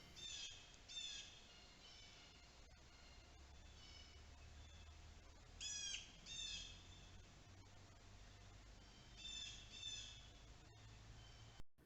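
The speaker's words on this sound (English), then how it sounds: "in the background, you can hear those birds going pretty clearly" Birds call and squawk intermittently in a few short bursts, picked up by a cheap Aomiun trail camera, faint against a constant distorted digital hiss and low hum that cover the whole recording.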